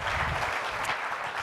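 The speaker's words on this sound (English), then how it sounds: "Thank you so much for the applause." Audience applause for a speaker on stage, a continuous wash of many hands clapping, steady and fairly loud throughout the short stretch.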